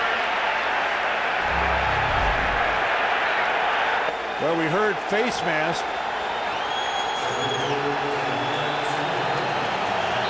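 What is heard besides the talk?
stadium crowd booing at NFL game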